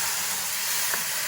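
Broccoli and other vegetables, about two and a half to three cups, sizzling in melted butter in a pan for cheddar broccoli soup: a steady, close hiss of frying with no talk.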